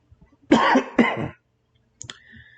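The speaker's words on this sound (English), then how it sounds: "if you hear me coughing on the show or I'm choking on the show" Two loud, harsh coughs close to the mic in quick succession, then a short throaty clearing a moment later.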